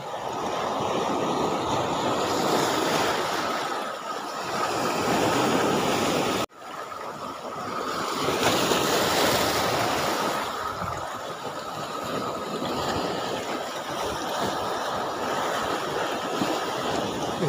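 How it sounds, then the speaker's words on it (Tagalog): Rough surf along a Palawan shore during shore casting, still churned up from the previous day's strong wind, rolling in as a steady, loud broadband wash for the whole stretch, with one brief drop partway through and no talk. "Medyo may alon pa kasi alon to ng kahapon."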